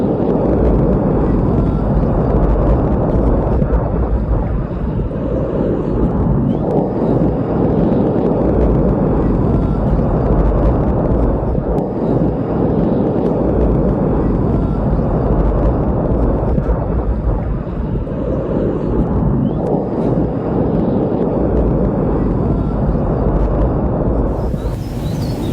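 Mount Etna erupting: a loud, continuous low roar and rumble fills the whole stretch, steady and booming with surging, wind-blown texture and no voices.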